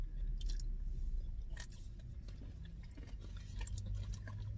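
Crunchy chewing of a Sonic ice cream mixed with Reese's, close and faint, with uneven bites and soft crunches.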